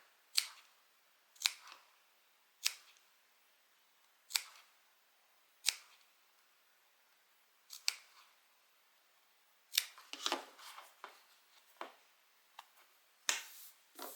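Sharp scissor snips through fabric, a dozen or so irregularly spaced cuts, close and crisp, with quick clusters near the end and no talking.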